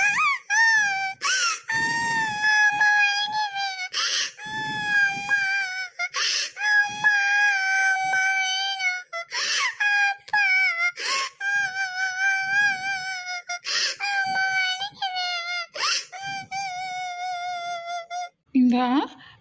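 An animated child cries in a cartoon with long, loud, high wailing sobs repeated again and again, broken by short gasping breaths, while another voice speaks to the child in between.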